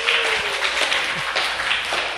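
Audience applause after a song at a small live book-talk radio event, a steady spatter of hand claps filling the room throughout, fairly close and moderately loud, with no one speaking over it.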